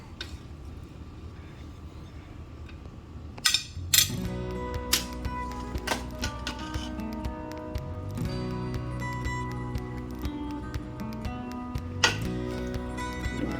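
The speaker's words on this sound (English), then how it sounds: "we're gonna go ahead and plate it up" Fettuccine Alfredo with shrimp and andouille sausage being plated, with light clinks and taps of utensils against dishes, scattered sharp knocks over a steady low kitchen hum, close and fairly quiet, no talking.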